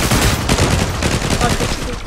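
Dense, loud gunfire from the online shooter Zula, with rapid repeated shots running the whole time and faint voices mixed underneath.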